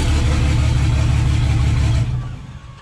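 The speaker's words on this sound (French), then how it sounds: "je vais aller couper le moteur parce que sinon on va pas s'entendre" A V12 bi-turbo Traction car engine idles loudly and steadily close by, a constant low rumble that cuts off and fades away near the end.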